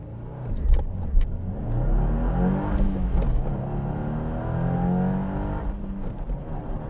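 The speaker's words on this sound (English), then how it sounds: "I just want to see what we can do with one quick acceleration test." A manual Subaru WRX or VW GTI accelerating hard in a 0-60 test, its engine revving up through the gears with brief dips at shifts, steady and fairly close, with no talk.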